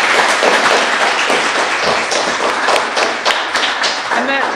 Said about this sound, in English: Let's do another big round of applause for, for all this wonderful student work